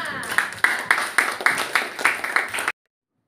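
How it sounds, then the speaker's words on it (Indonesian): A class of students claps together in a quick, rhythmic run of about ten sharp, close beats, then stops abruptly into silence. "Jadi tepuk tangan dulu untuk kita semua."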